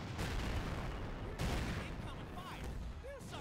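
War video game battle with dense artillery shelling and gunfire, a continuous roar of overlapping blasts and shots with a sharp boom near the middle, while some speech sits in the mix.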